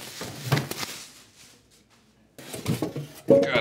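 A lid on the Qidi X-Max 3 3D printer is handled during unboxing, giving a few close clattering knocks and rattles in two bursts separated by a quiet pause, with brief talk near the end.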